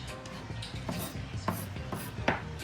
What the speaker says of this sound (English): I'm just gonna chop it up like this